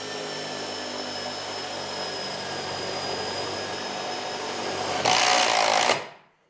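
A Kress KUB61.91 20V brushless impact driver drives a tech screw into 5.5mm thick metal, a steady high whine for about five seconds that breaks into a loud harsh hammering burst near the end before cutting off abruptly.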